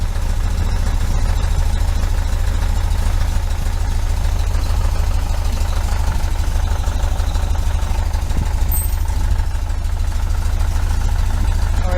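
A 1973 VW Super Beetle engine fitted with Dellorto FRD 34B carburetors idles steadily and loudly up close, a continuous low throbbing rumble with no break.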